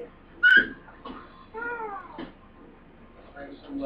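A cat gives a shrill, wavering meow and then a longer drawn-out yowl, close by, with quieter sounds and faint talk between the calls.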